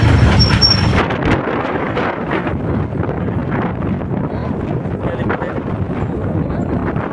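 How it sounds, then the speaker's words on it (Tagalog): Strong wind buffets the microphone on the Mega Dike in Malabon, a loud, continuous roar of gusts filling the whole stretch with no letup. "napakalakas ng hangin para tayong tatangayin sa lakas ng hangin"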